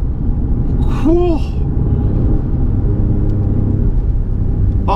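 An Alfa Romeo Giulia Quadrifoglio under hard acceleration, engine roaring loud and close from inside the cabin, with a brief rising whine early on and a steady heavy rumble throughout.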